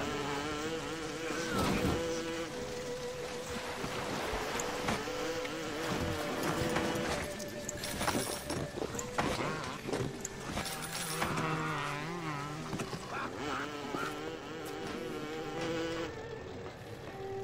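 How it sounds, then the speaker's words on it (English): A bee buzzes persistently in the video game Bioshock, a steady droning hum with wavering pitch over game ambience and scattered clanks, loud and continuous throughout. "Wow, that bee's annoying."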